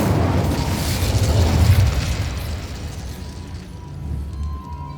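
An Incendio fire spell in Hogwarts Legacy bursts with a loud, roaring whoosh of flame that swells for about two seconds and then fades into a softer crackling tail.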